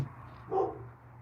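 A single dog's bark, one brief mid-volume burst heard alone against a faint steady hum.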